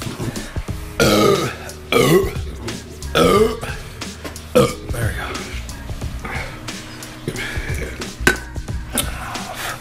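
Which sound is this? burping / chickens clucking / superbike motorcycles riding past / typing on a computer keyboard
burping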